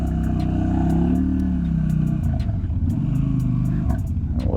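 A 2001 Yamaha Dragstar 250 cruiser motorcycle engine idling as it warms up with the choke on, a steady close rumbling drone that dips slightly partway through.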